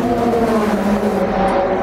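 A Porsche race car howls past at close range during the 4 Hours of Monza endurance race, a loud sustained engine tone that shifts in pitch as it passes.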